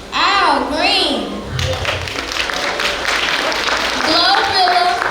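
Crowd clapping and cheering fills the clip, a dense steady wash of applause with shouts rising above it, loud and close.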